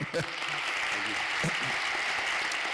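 Audience applause at a school district community night honoring the board of education, a steady broadband clapping wash running throughout with a few brief voices rising above it.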